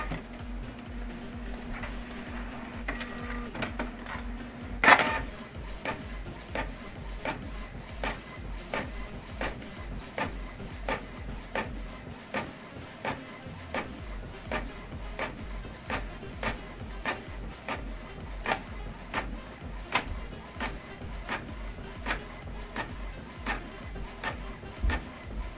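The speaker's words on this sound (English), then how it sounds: "So now this document is going to print out from this printer." A Canon printer runs a document, starting with a humming whir and a sharp clack, then settling into an even, rapid series of mechanical ticks as the paper feeds, fairly quiet and close.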